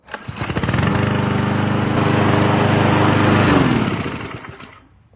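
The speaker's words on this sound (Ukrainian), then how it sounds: "Я перевіряю, наскільки косарку можу використовувати в якості блендер." A lawn mower engine, used as a blender on tomatoes, roars steadily at close range for several seconds, then winds down and fades out.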